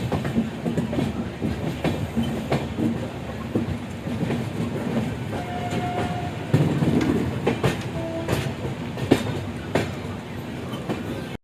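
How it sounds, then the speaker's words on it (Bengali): The 12822 Puri–Shalimar Dhauli Superfast Express runs along the track with a steady rolling rumble and rhythmic clickety-clack of wheels over rail joints, heard from inside the coach, with brief squeals. "যথাসময়ে রওনা দিয়েছে 12822 পুরী শালিমার ধৌলি সুপারফাস্ট এক্সপ্রেস"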